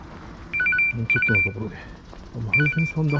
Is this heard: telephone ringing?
yes